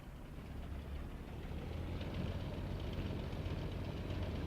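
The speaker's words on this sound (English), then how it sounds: "Thousand revs. Just to warm the engine up." A Bf 109 K-4 engine in a flight simulator game idles at about a thousand revs while warming up, a steady low rumbling drone that grows slightly louder and holds even throughout, with no talking.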